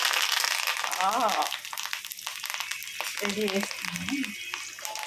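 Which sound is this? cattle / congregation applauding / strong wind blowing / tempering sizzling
tempering sizzling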